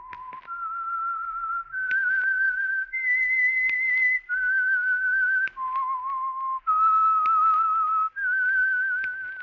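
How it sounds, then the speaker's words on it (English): A lone whistler performs the eerie signature tune of The Whistler radio program, a slow 1947 melody of long sustained notes stepping up and down, clear and close with short breaths between phrases. "That whistle is your signal for the Signal Oil Program, The Whistler."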